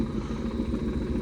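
A swapped-in car engine runs steadily, a low rough rumble with a fast uneven clatter, close and continuous with no talking.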